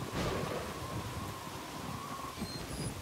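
Thunder rumbles during a storm in the video game Yakuza Ishin, a low, steady roll with a windy, rain-like wash. It is faint and continuous, with no sharp crack.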